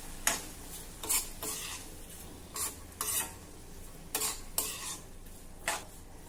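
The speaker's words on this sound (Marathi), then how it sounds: "आता या साखरेसोबत देखील आपल्याला हे जरा वेळासाठी शिजवून घ्यायचं आहे।" A mixture cooked with two tablespoons of sugar is stirred in a pan, with a soft ongoing sizzle under irregular scraping and clinking strokes of the spoon.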